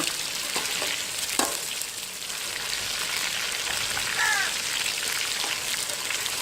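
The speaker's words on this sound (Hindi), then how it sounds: "चिकन को ज़्यादा आपने फ्राइड करना है, अच्छी तरह फ्राइड करना है।" Chicken pieces fry in oil in a pan for jungle pulao, giving a steady close sizzle, with a few stirring clinks and scrapes across the crackle.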